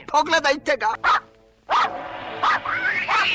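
A cartoon dog barks in a rapid series of yips, loud and close, followed by talking over a soft whimpering tone.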